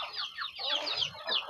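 KUB chickens and native village chickens cluck in a farm pen, with a steady run of short overlapping calls close by.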